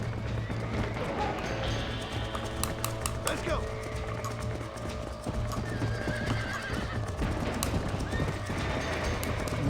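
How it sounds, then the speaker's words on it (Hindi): In the Red Dead Redemption video game, horses whinny and neigh while hooves clip-clop and gallop steadily beneath, with a voice speaking over the action at moderate loudness. "घोड़े बावले हो गए।"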